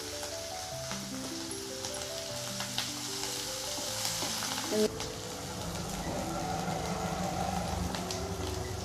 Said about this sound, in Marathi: हे छान लसूण व मिरची तळलेली आहे